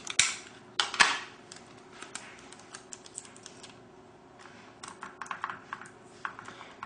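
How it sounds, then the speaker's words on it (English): Regular Scotch tape being pulled and pressed onto Xbox 360 controller buttons, close dry crackles and sharp little snaps in uneven bursts, some louder tearing spikes early on, with no speech. "So I'm just taping the buttons to the controller."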